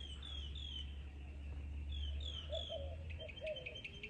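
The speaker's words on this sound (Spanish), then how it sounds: "Y por ahí está la paloma, la escucho." A dove cooing softly in the distance on a muddy rural farm, mixed with thin chirps and tweets of other birds over a low steady rumble.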